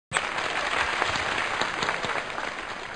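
Dense applause from a packed studio audience starts abruptly and holds loud and steady, a continuous wash of many hands clapping close by.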